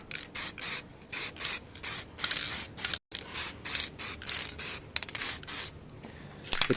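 Short bursts of aerosol spray paint hiss over Suzuki GSX-R 600 K2 motorcycle parts, repeating in a steady rhythm of close, loud passes with brief pauses between them.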